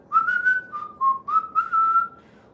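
Someone whistles a melody, a clear, close, tuneful run of several short notes ending on a held tone, with no speech over it.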